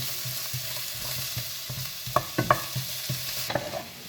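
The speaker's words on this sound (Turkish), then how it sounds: "Rengi birazcık değişene kadar soğanlarımızı da kavuralım." Onions sizzle steadily in a hot pot while a spoon stirs, scraping and clinking against the metal a few times.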